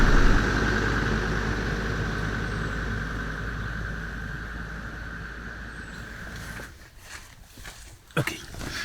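Land Rover Defender engine while driving on a remote road, a steady, loud, low droning rumble that holds for most of the stretch, then drops away near the end with a few knocks and rattles.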